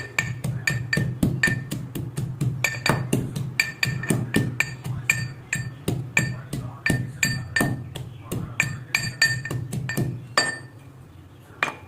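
Garlic for a mutton curry is pounded in a steady series of sharp, repeated knocks with a hard, slightly ringing edge, loud and close, continuing for about ten seconds before stopping.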